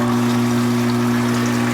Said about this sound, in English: now I'm gonna pump over 3 or 4 gallons of boiling water.